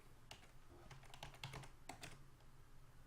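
Computer keyboard keys tapped while typing a project name into a Unity setup window, a quick irregular run of clicks spread across a few seconds, close and fairly quiet, with no talking.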